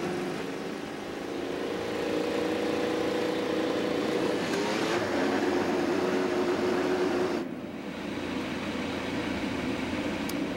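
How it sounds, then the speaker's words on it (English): Ethanol-powered IndyCar race car engines at the Iowa Corn 300 oval start up and idle together in a continuous, loud mechanical drone, rising slightly midway then dipping briefly before settling back into a steady rumble. "Drivers, start those ethanol-powered engines."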